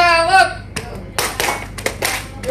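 Pupils in a classroom play a rhythmic clapping game, beating out short, sharp bursts of clapped hands in a patterned sequence, with a voice leading at the start.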